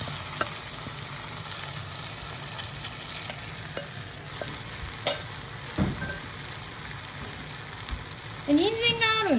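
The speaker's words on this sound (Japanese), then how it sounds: "で、これで油、ちょっと多い油で揚げ焼くって感じです" Batter-coated vegetables with carrot shallow-fried in plenty of oil, a steady close sizzle with scraping stirs throughout and a brief voice near the end.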